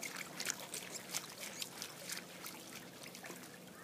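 Garden hose pushed hand over hand down into backyard swimming pool water to fill it before hooking up an automatic pool cleaner, giving soft, close sloshing and trickling splashes in an uneven rhythm with no talk.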